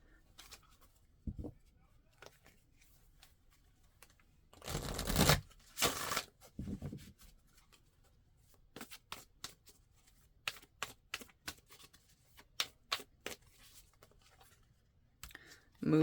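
Tarot cards being shuffled by hand, with a card flopping loose from the deck: a dense papery riffle in the middle, then scattered crisp ticks and taps from the cards being handled.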